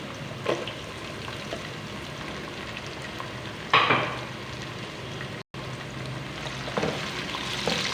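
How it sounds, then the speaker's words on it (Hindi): Steady sizzling of ginger, garlic and onions frying in a pan for chicken curry, with a few scrapes and stirs cutting through the constant crackle, close and moderately loud. "और 2 से 3 मिनट के लिए भून लेंगे प्याज़ों के साथ इसको।"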